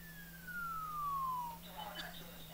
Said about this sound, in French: Ah si, une ambulance.